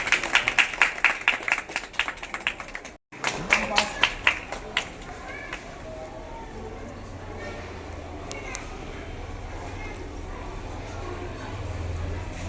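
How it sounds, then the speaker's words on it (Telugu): Clapping rings out at a school gathering for students selected for a state rifle shooting meet, with rapid rhythmic claps in the first few seconds giving way to a quieter room as voices speak. "క్లాప్స్ కొట్టండి మేడం క్లాప్స్"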